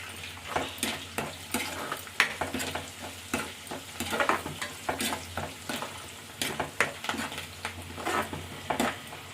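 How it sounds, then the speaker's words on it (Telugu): Goat brain frying in a pan with curry leaves and turmeric, a steady close sizzle broken by frequent scraping stirs of a spoon against the pan. "వేగుతుంది కదండి"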